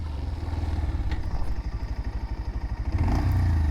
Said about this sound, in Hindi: सबसे पहले इसको 60 तक ले चलते हैं and rear brake with front brake